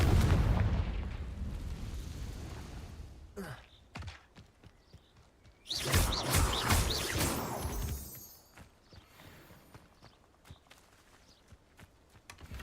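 A Confringo explosive spell blast in Hogwarts Legacy bursts loudly near the middle, a sharp boom with a crackling tail, amid other game combat thuds and effects.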